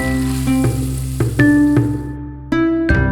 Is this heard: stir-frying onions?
yes